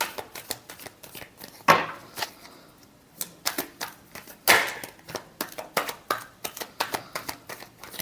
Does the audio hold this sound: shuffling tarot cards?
yes